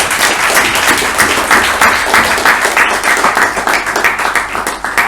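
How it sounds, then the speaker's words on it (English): A Toastmasters meeting audience in Bangalore claps together in a room, a dense, fairly close burst of applause that stays steady and then slowly thins out. "let's give a round of applause."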